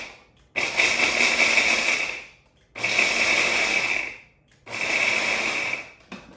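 An electric chopper whirs through pecans in three loud bursts of roughly two seconds each, separated by short pauses, with no voices.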